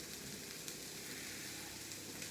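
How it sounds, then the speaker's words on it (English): Water hits a hot pan with onion and sizzles steadily while it deglazes the pan, a dense, even crackling hiss that stays close and continuous with no talk over it. "I just put a little bit in there, and it starts to deglaze the pan and it sizzles"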